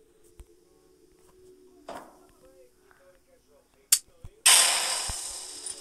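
A bomb goes off in a Melon Playground clone video game: a couple of small clicks, then a sharp burst and a loud noisy blast that slowly fades, with someone talking quietly over the earlier part.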